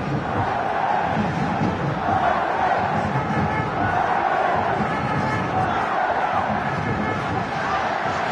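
Rugby crowd at a Clermont Auvergne versus Munster match roaring and cheering, a loud, sustained wall of massed voices with shouts rising over a continuous babble.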